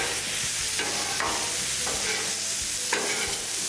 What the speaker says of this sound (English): So we're gonna quickly toss all of this together.